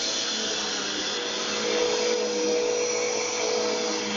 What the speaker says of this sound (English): Most babies are scared of the vacuum cleaner, run away.